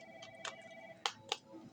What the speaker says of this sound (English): the phone went off